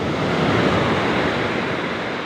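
Big ocean waves surge and crash near moored fishing boats on the shore, a steady loud wash of surf with gusty wind noise and no voices.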